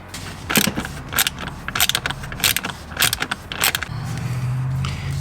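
A small wrench turns a T20 screw beneath the seat of a 2023 Tesla Model Y. The clip has a run of sharp metallic ratcheting bursts at close range, followed by a low steady hum near the end.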